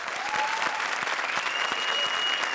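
Studio audience on a Hindi comedy show bursts into steady, dense applause for the guests, a continuous wash of clapping from start to finish with no voices over it.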